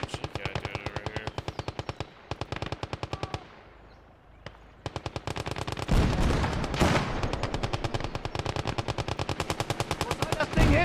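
A machine gun in the video game Gates of Hell fires rapid, loud bursts of evenly spaced shots, pauses briefly, then hammers on almost continuously with heavier blasts mixed in and faint voices underneath.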